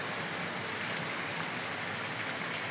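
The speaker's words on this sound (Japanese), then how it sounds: "今雨がね降り出したんですけど" Steady rain pours down at a half-roofed open-air hot spring bath at Kikuchi Onsen in Kumamoto beside a flowing river, a dense, even hiss that stays constant throughout with no voices.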